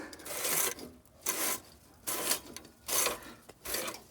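A hand-pushed two-wheeled seeder's mechanism is turned by hand, giving a repeated rubbing, rasping scrape in four or five even strokes, close and fairly quiet.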